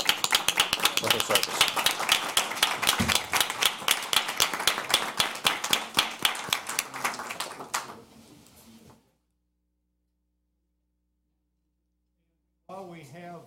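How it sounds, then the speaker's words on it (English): Applause from an audience at a county board of supervisors meeting, a dense burst of many hands clapping that fades out after about eight seconds, with a voice briefly speaking during the clapping and again after a quiet gap. "just give her a round of applause"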